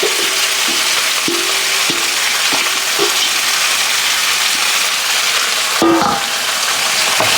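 Onions, carrot and celery frying in a stock pot, a loud steady sizzle with scattered clanks and scrapes of stirring, and a brief louder jolt near the end.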